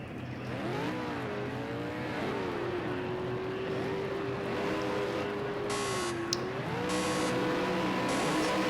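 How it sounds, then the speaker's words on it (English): Supercars revving at the race start on Laguna Seca in a racing game, several engines droning and rising in pitch together, loud and continuous, with short electronic beeps near the end. "Lights are growing red, revs are building, and away we go, and everyone smokes it off the line."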